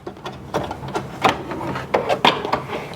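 Janome Memory Craft 100E embroidery machine trimming its thread, a quick series of mechanical clicks, whirs and clunks at close range, fairly quiet with no talking.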